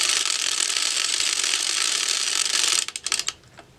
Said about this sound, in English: I'm going to crank about 10 rows of scrap yarn.